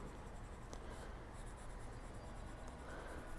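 A soft, steady scratching of a colored pencil gliding across smooth paper, quiet and close, with faint strokes continuing throughout.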